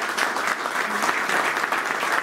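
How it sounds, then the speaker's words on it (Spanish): Loud, dense clapping from a crowd, a continuous wash of applause that holds steady throughout with no voices over it. "También vamos a darle un fuerte aplauso a Jorge Aquino."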